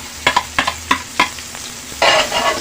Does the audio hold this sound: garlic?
yes